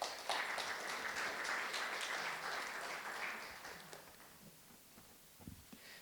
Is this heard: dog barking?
no